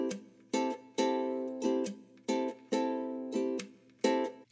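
Ukulele plays a repeating pattern of bright strums alternating with muted slaps on the strings, each strum ringing briefly before the next percussive tap, loud and close with no talking.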